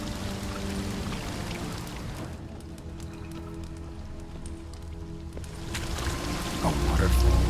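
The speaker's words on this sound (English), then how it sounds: "A waterfall flowing upwards." An upward-flowing waterfall in The Witcher 3: Blood and Wine gives off a dense, steady splashing pour, like heavy rain on a surface. It dips slightly in the middle, then swells louder toward the end.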